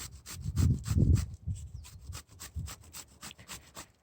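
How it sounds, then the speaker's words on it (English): Summer squash rubbed by hand over a medium grater, giving a series of short rasping scrapes in an uneven rhythm, close and fairly quiet with no talk. "just grate your squash"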